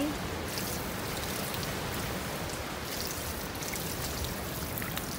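Water from a beach foot-wash shower rinsing feet at Lori Wilson Park in Cocoa Beach, Florida, a steady, close, continuous splashing spray that holds without pause.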